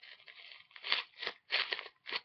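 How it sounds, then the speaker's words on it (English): Paper backing being peeled off the adhesive strip of a Kotex Natural Balance wingless pad: close, crinkly tearing rustles in four or five uneven bursts, with a light papery crackle between them. "the thing that makes the most noise is"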